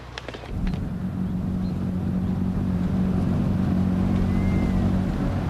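A car engine drones steadily at close range after a brief rustle at the start, a constant low hum with a faint tonal whine and nobody speaking.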